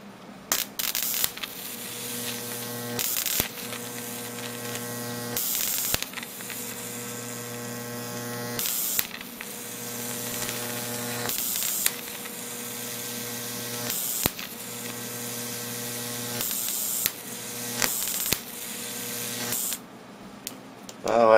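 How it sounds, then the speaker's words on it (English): High-voltage arcs from a ZVS flyback transformer driver using IRFP460 MOSFETs: loud hissing, buzzing bursts that repeat every few seconds over a constant electrical hum. "if it starts arcing too much there, it won't burn up the Flyback, it'll just arc to the pins"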